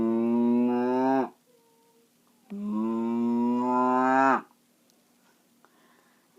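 A person imitates a cow's moo using the throat, giving two long, loud, droning lowing calls separated by a pause, each with a slightly rising pitch, performed alone.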